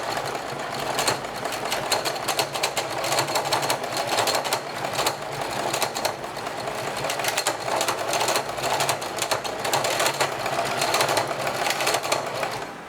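A sewing machine runs slowly through a straight stitch with the presser foot and needle down, its needle bar clattering in a steady, continuous mechanical rhythm close by for the whole stretch.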